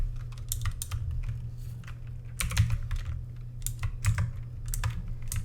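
Code is typed on a computer keyboard in bursts of crisp, close key clicks, irregular in rhythm, over a low background hum with no talk.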